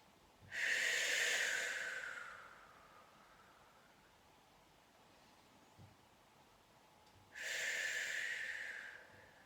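Two long, steady breaths drawn close to the mic during a hip mobility stretch, each lasting about two seconds and separated by a quiet pause, soft and airy with no talking.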